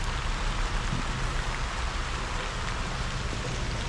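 Heavy rain pours steadily in a dense, unbroken hiss that fills the whole stretch, loud and close, with no pauses or voices.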